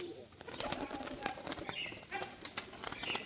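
Rapid, fluttery wing flaps from a nearby male pigeon in several quick bursts, fairly faint against a quiet background.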